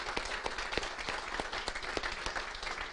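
Audience applause fills a room at an official announcement event about building the I-73 highway: dense, steady clapping from many hands with sharper individual claps, sustained at moderate loudness throughout.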